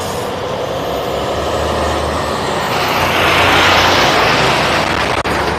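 A heavy Amazon delivery truck rumbles past nearby, its engine roar swelling louder toward the end before a brief dropout; no talking.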